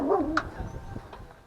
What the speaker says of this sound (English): are you barking at?